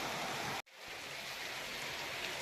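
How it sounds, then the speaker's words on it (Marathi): Heavy rain falling outside among trees, a broad steady hiss close by, briefly cutting out for an instant before resuming at full strength. "पण बाहेर जोरदार पाऊस"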